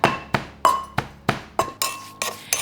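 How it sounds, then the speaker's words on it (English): Shallots and chili are pounded in a mortar and pestle for a Vietnamese braised pork dish, with about eight sharp, evenly spaced strikes ringing close and loud. "Start by grinding together shallots and chili, if you like it spicy, in a mortar and pestle."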